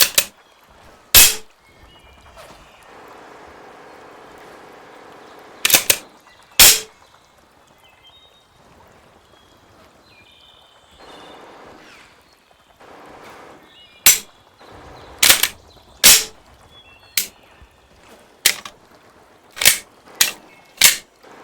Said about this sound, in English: With up-close gun noises.